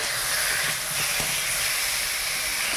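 Small puti fish fry in a pan of hot oil in a rural Bengali kitchen, giving a loud, continuous, dense sizzle and hiss that holds steady for the whole moment.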